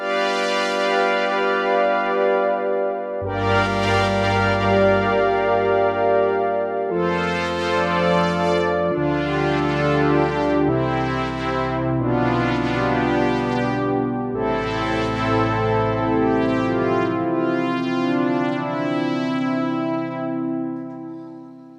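Rich, buzzy Sequential Prophet 6 synthesizer chords with a slowly shifting, hollow pulse-width modulation shimmer and no tremolo change every couple of seconds over a sustained bass, loud and unaccompanied.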